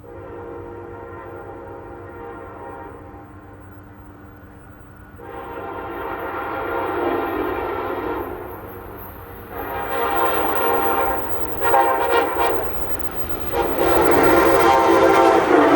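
An Amtrak power special hauled by ACS-64 locomotive 659 passes on the Northeast Corridor near TF Green Airport, with horn blasts building in loudness over a rising rail rumble and wheel clatter as it draws near.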